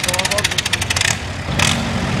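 Gasoline tractor engine roaring at an outdoor tractor pull, a loud revving run with rapid pulsing exhaust that drops briefly and then surges again.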